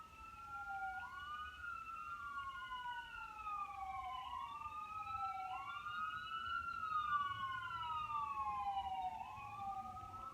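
An emergency siren passes outside, its wailing tone rising and falling steadily over several cycles, moderately loud and continuous, with no talking.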